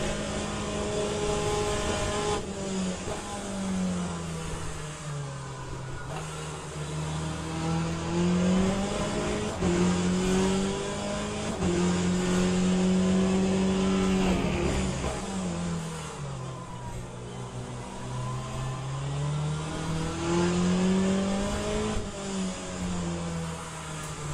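Race car engines in the Le Mans Ultimate racing game, an endurance race with a Porsche and a Ferrari, droning steadily with rising and falling pitch through gear shifts, loud and continuous with no talking.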